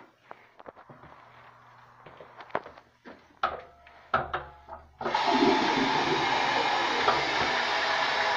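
A 1927 Standard toilet in an old tower restroom is flushed. Scattered clicks and handling knocks come first, then a loud, sustained rush of water that fills the rest.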